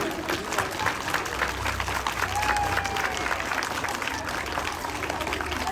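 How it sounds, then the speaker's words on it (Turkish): Children at a school gathering in Turkey applaud their teachers, with a wash of scattered clapping that sounds somewhat distant and soft, and crowd murmur and a few voices underneath. "Öğretmenlerimizi bir alkışlayalım."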